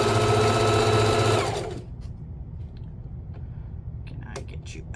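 A sewing machine stitches a pillow in a fast, steady whirring run that stops abruptly partway through, leaving quiet room noise and a few small clicks and handling sounds.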